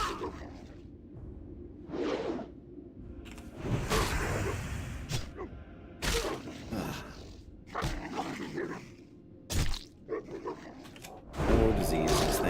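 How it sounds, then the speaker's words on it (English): Wolves die in World of Warcraft hardcore self-found play on a level 56+ Paladin, with whooshing weapon swings, yelps and growls coming in repeated bursts, loud and close over game noise, with no voice over them. "She hates the wolf dying sounds"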